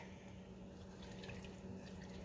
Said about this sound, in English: I am using water, and I'm going to fill it up.